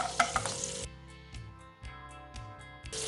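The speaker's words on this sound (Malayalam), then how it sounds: "ഇനി നമ്മൾ അണ്ടിപ്പരിപ്പ് അതുപോലെ തന്നെ മുന്തിരി ഒന്ന് ഫ്രൈ ചെയ്തെടുക്കുകയാണ്." Cashews and raisins fry in ghee in a pan. A bright sizzle comes in bursts, and sharp clinks of a stirring spoon against the metal sound close up, with no voices.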